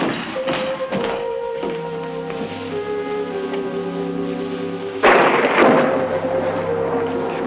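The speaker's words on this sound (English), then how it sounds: "Thunder and lightning." Thunder rumbles low and long during a storm, with scattered taps and a sudden louder crack-like burst near the end, set under a sustained orchestral tone.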